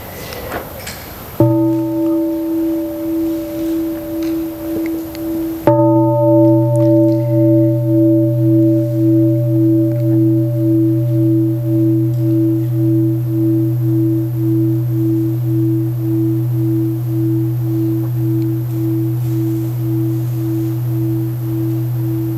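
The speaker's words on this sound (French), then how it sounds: "On va écouter un son de cloche d'abord." A meditation bell is struck twice, each strike ringing out with a clear, sustained tone that slowly decays and hums on for many seconds.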